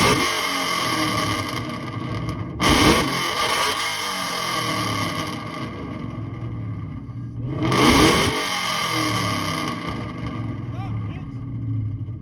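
A car at a Houston car meet revving with its exhaust dump open, a steady loud engine rumble with two sharp rising revs spaced several seconds apart, people talking nearby.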